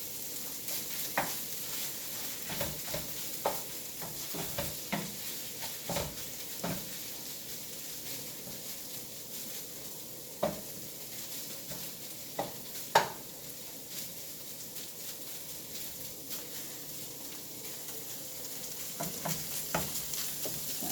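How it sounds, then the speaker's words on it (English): Chicken sizzles in a pan for Lebanese rice with chicken, a continuous soft frying hiss broken by scattered scrapes and taps of stirring, fairly quiet and close, with no voices. "you get a nice little sizzling sound of the chicken"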